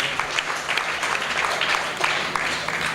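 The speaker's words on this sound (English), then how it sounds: "Please clap for those who are not here." Steady audience applause at an annual general meeting, a dense, even patter of many hands sustained for the full stretch at moderate distance.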